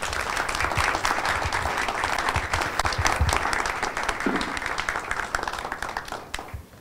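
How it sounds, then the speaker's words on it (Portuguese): A studio audience on a Brazilian television program breaks into a warm round of applause, many hands clapping in a dense, sustained wash that swells and then fades out toward the end. "só por isso já vale uma boa salva de palmas"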